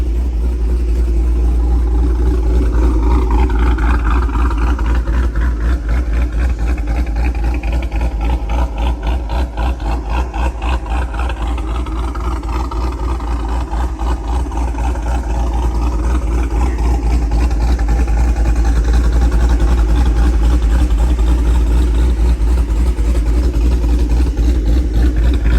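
Cammed 5.3 V8 in a GMC Sierra with equal-length longtube headers idling, heard from outside the truck: a loud, choppy, lumpy exhaust rumble with a steady uneven lope that continues throughout, no talking.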